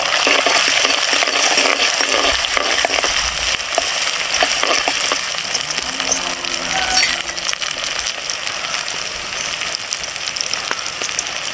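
Chopped small shallots frying in hot oil in a pan for a village-style country rooster curry, a loud continuous crackling sizzle with some rattling scrapes, close up and alone.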